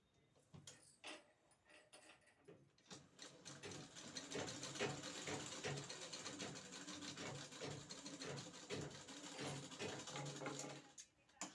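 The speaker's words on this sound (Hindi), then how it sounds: "तो फाइनली दोस्तों अभी हम सिल रहे हैं।" A sewing machine stitching a blouse starts after a quiet moment and runs in quick rhythmic bursts with short pauses, close and fairly faint, with small handling clicks between runs.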